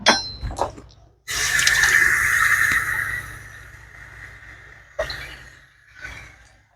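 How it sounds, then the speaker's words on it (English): Water runs from a kitchen tap into a measuring cup for a taco bake, a steady hissing stream for a few seconds, close up, followed by a short second splash. "And I'm also gonna add some water."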